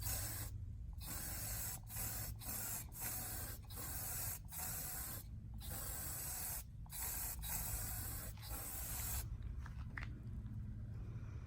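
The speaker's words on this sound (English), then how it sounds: "We're going to spray a second coat on here" Repeated bursts of a spray can hissing, broken by short pauses in an uneven rhythm, close and steady over a low background hum.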